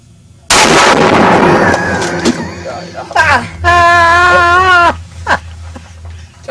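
A single loud, sharp gunshot is fired at a target, followed by close voices talking and calling out.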